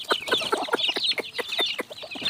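Young chicks cluck and peep in quick, steady bursts at feeding time on a small farm. The calls are close and lively and repeat throughout with no talk.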